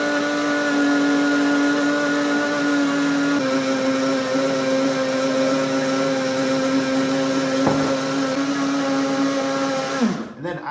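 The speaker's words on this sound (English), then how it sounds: "Then you are going to pulse as you add half a stick of melted butter." A blender runs steadily on hollandaise sauce as melted butter is slowly added, a loud continuous motor whine holding for about ten seconds before it cuts off abruptly at the end.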